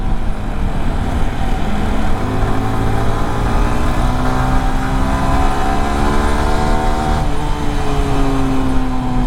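A Yamaha motorcycle running Motul 7100 engine oil idles and revs loudly up close, its engine tone climbing and then dropping back in a steady, continuous drone.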